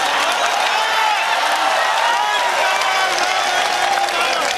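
Audience applause and crowd noise at a Hindi kavi sammelan poetry recital, a dense steady wash of clapping sustained throughout at moderate loudness.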